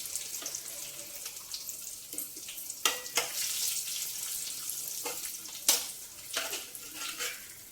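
Urad dal and broken dried red chillies frying in a tempering for a bottle gourd dish, a soft continuous sizzle with a few sharp crackles and stirring clinks.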